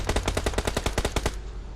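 In a shooter video game, automatic gunfire rips out a rapid burst of about a dozen loud shots, close and evenly paced, then cuts off abruptly.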